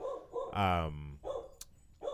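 A dog barks a few times in a video game's dog mode, short sharp yips mixed in with ongoing talk between players.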